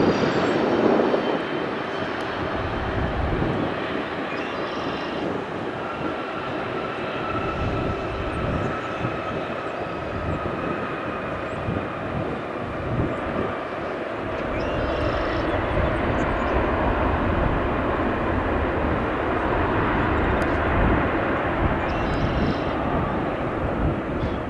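A British Airways airliner at O'Hare International Airport, its steady jet engine roar broad and sustained throughout, loud and continuous with no talk.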